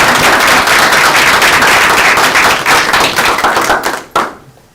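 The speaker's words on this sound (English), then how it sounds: "It's okay to clap?" Applause from an audience at a school board of education meeting, a dense burst of clapping that fills the room and then cuts off abruptly near the end.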